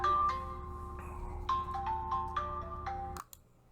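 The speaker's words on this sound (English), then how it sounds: "I always get a phone call in the middle of videos" A phone rings with an incoming call, its electronic ringtone playing a repeating melodic pattern nearby before cutting off abruptly near the end.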